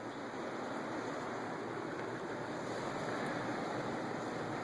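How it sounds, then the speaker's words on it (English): Heavy wind-driven rain sheets down window glass in a steady, dense hiss with a low rumble, unbroken and fairly even throughout. "it's like a waterfall coming down the glass"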